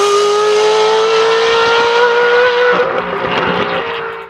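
A Ferrari F430 with its mufflers deleted for a straight-pipe exhaust revs loud and close, a raw sustained howl that holds high, then dips and rasps as the revs fall away.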